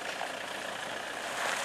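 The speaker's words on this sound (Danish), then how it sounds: "Her kommer en Adria-bil" An Adria motorhome from the Netherlands rolls in at a campsite, its engine a steady broadband rumble with tyre noise, fairly close and building slightly at the end, with no one speaking.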